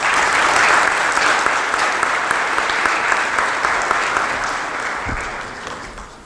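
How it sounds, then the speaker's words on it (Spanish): A room full of people applauds as a firm's managing partner is welcomed at a seminar on tax criminal reform; the clapping is loud and dense, then gradually tapers off toward the end. "Un aplauso,"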